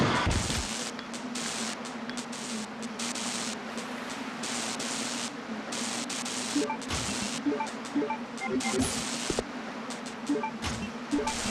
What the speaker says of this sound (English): This hunter I love because you can just run up to him and shotgun him.